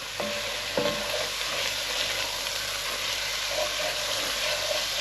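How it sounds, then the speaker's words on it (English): Caramelising onions for French onion soup are stirred in a hot pan, with a steady close sizzle and a few scraping spoon strokes against the pan near the start and again toward the end. "I'll just come and give it a little bit of a stir."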